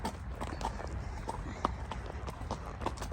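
A pony's hooves clip-clop steadily while being hacked out along small tracks, a soft, even walking rhythm heard at close range over faint outdoor background noise.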